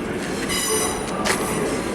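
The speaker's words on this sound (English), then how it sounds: "the National Express run some trains here in Germany" A National Express regional train in Germany rolls past with steady rumbling wheels, rail clatter and a brief metallic squeal, loud and close throughout with no talk.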